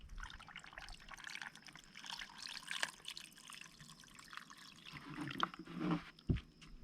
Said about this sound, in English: Then add water once again to cover your stones.